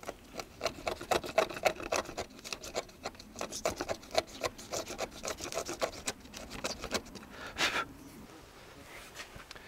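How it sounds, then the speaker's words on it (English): A wood chisel tidies up freshly cut notches in timber for a pergola build, giving a steady run of close, short scraping and rasping strokes with no talk. "we just go in with our wood chisel"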